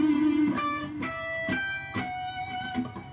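A guitar plays a short melodic phrase from Pachelbel's Canon high on the neck, with four or five clear picked notes ringing out evenly and softly, heard alone.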